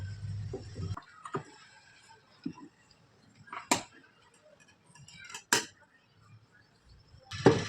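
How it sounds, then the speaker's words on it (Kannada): Scissors cutting blouse fabric around a lining piece, trimming the extra main fabric to the lining's size; a few scattered, quiet snips and rustles separated by near silence. "ಅದನ್ನು ಮೇನ್ ಫ್ಯಾಬ್ರಿಕ್ನ ಲೈನಿಂಗ್ ಪೀಸ್ ಸೈಜ್ಗೆ ಕಟ್ ಮಾಡ್ಕೊಂಡು ಬಿಡೋಣ ಸುತ್ತಲೂ"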